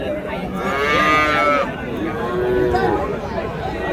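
Large Holstein Friesian cattle moo in long, drawn-out calls at a busy cattle market, two moos heard close by over a steady background of crowd chatter and someone speaking.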